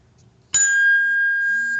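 Phone text message notification from a noise-monitoring alert, a single bright sustained ding that rings out clearly and slowly fades.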